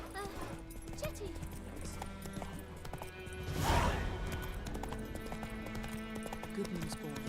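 Roach the horse galloping in The Witcher 3, rapid rhythmic hoofbeats throughout with a brief louder rush midway, set under game music and a voice speaking.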